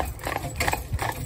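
Hooves of a Shire horse and an Irish Draft sports horse driven together clip-clop steadily along a cambered road, a brisk close rhythm of overlapping strikes.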